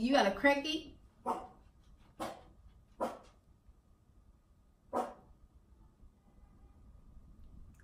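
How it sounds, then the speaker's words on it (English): A dog barks sharply several times at uneven intervals, fairly close, following a brief stretch of speech. "that's the dog barking"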